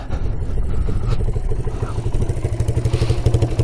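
Close up, a small engine on a Yamaha Breeze mini quad idles with a steady, loud throbbing chug, left running untouched in snow.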